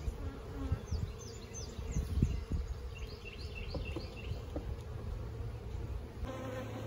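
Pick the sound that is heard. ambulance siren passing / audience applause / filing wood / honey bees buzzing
honey bees buzzing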